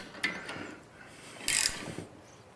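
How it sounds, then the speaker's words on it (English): A 3/4 inch wrench tightens a nut on a motorcycle dolly, giving a few quiet metallic clicks and one brighter ratcheting burst heard close up with no talking. "So we're going to grab our 3/4 inch wrench on the bottom"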